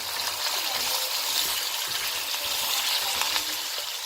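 Ginger garlic paste fries in a pan with a steady, soft, close sizzle and crackle that continues without interruption.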